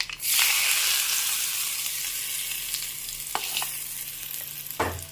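Hot tempering of green chilli and onion poured into a tomato pachadi, starting with a sudden loud hiss that settles into a steady sizzle, with a couple of brief clinks of a utensil, no speech.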